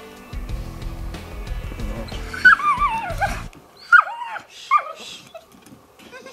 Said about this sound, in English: And then they let out one bark.